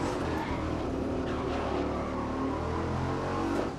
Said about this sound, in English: at the moment, because it's a muscle car, nice and throaty